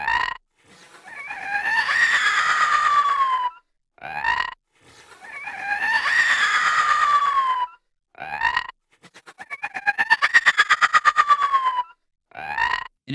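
Designed alien worm creature screeches, frequency- and amplitude-modulated: four long warbling, wavering shrieks sliding up and down in pitch, each separated by short harsh bursts, the last one pulsing rapidly.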